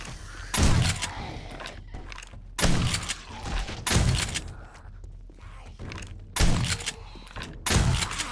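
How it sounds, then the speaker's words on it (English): Shotgun blasts in the zombie survival game 7 Days to Die, six loud booming shots spaced about a second apart, each with a sharp attack and a short decaying tail, no talking. "I don't even think this shotgun reaches that far"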